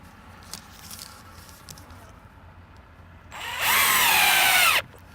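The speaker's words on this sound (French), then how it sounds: "tout ce que vous avez à faire, c'est de le dérouler et le visser en place" Power drill driving screws to fasten rolled floor insulation in place over an unheated crawl space, one loud sustained whir lasting about a second and a half after quiet handling sounds.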